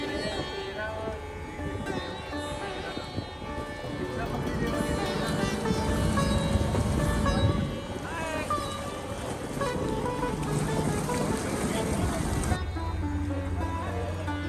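Boat on the River Ganges at Rishikesh, with a low engine drone and water wash under a busy mix of voices and ambient noise, moderately faint, before the scene shifts to a quieter hum at the end.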